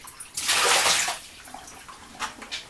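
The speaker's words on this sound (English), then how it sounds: "After I've pumped it and sent it through a wash cycle, I just drain it into my special bucket with holes." Washed laundry water draining into a bucket with holes: a close rush of pouring, splashing water that fades into scattered trickles and drips.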